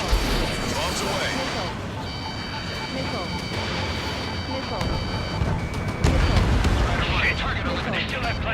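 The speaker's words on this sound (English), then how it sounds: "Bombs away." Bombs and heavy ordnance explode in a loud, continuous rumble of blasts during a combat flight in the video game Ace Combat 7, with a bigger boom near the end over a dense battlefield mix of engine noise and tones.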